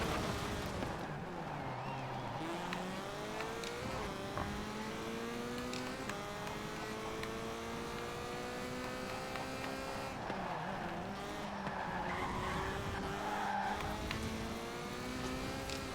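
Car in a racing video game revving hard while drifting, with a continuous engine whine that climbs and falls in pitch and tire squeal layered through the whole stretch.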